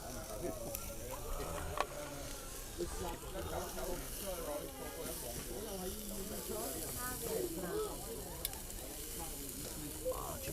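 Fire burning in an ultralight folding camping fire pit outdoors, a steady sizzling hiss with soft crackles running throughout while voices talk over it.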